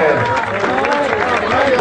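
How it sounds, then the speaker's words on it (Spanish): Crowd clapping and cheering at a jaripeo bull-riding event at a town fair, sustained applause mixed with crowd noise and an announcer's voice over a loudspeaker. "Venga el aplauso fuerte,"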